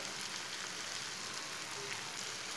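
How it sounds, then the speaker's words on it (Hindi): Spices sizzle steadily in a hot pan for tinda sabzi, with whole coriander, salt, red chili and turmeric giving off a constant close crackling hiss. "सब मसालों को 1 मिनट तक भून लेंगे।"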